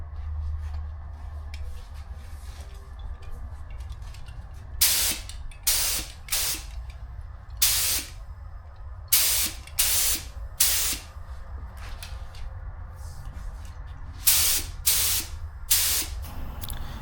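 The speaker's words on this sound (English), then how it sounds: "we'll go ahead and apply the second coat of primer" Repeated short bursts of a spray gun applying primer to a 1971 Harley-Davidson Ironhead Sportster XLCH part hiss over a low steady compressor hum, in uneven bursts of about a second each.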